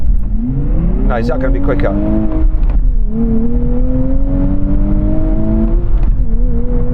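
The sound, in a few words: sports car launching in a drag race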